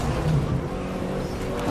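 Autocross car driving hard through a slalom, heard from inside the cabin, a loud continuous engine drone with slight pitch shifts as the throttle changes.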